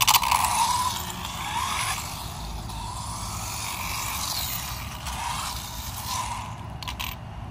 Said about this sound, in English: Put the screw in nice and tight.